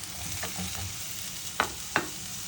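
Garlic frying in a pan, a steady close sizzle with two sharp scrapes of a spoon stirring through it.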